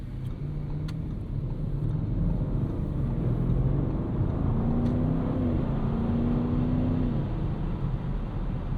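A 2025 Audi RS6 Avant wagon with a twin-turbo V8 cruises on a highway, a steady low engine drone with road and wind rumble from inside the cabin, rising slightly in pitch.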